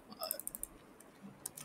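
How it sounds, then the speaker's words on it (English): Keys tapped on a computer keyboard while entering an account number, a quick run of light clicks, soft and close, with a faint voice in the background. "you can type any account number"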